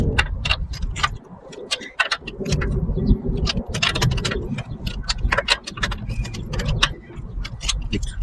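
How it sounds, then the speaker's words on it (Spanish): Metal wrench clicks and clanks sound at a Kia Optima wheel as the lug nuts are loosened by hand, sharp close taps and ratcheting knocks repeating irregularly over a low background rumble. "tienen que aflojar las tuercas para no estar haciendo fuerza cuando el carro ya esté levantado"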